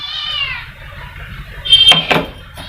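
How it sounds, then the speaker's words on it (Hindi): A cat stealing a roti in a home gives a clear, drawn-out meow at the start, followed by a pair of sharp knocking bangs and a faint rattle nearby. "ये बिल्ली भी बहुत तेज है।"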